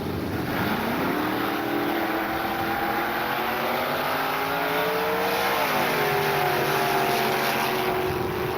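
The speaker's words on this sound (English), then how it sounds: "Bob Raskin, the Jimmy Nova to go against the hard charging Jimmy Camaro" A Chevrolet Nova and a Chevrolet Camaro drag race side by side. Fuel-injected engines roar loudly and steadily, with the pitch sweeping up through the gears.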